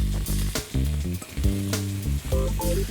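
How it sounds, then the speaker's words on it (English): Steady hissing sizzle of andouille sausage frying in olive oil in a pan, with music playing over it throughout. "You start to hear some of the sizzle."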